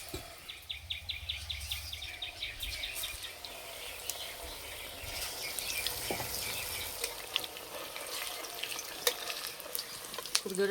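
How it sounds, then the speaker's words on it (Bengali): Cabbage-leaf roll pakoras, coated in batter, frying in well-heated oil on low heat, a steady soft sizzle with faint stirring clicks throughout, no talking. "ভাজার জন্য তেল খুব ভালো করে গরম করে নিয়েছি, এবার ভেজে নেব।"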